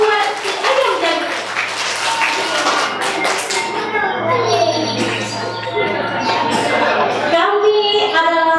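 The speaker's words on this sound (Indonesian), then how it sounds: "tepuk tangan buat si ayam jago" Children's class group applauds after a rooster performance, with quick scattered claps and taps layered over ongoing chatter and a voice, fairly close and loud.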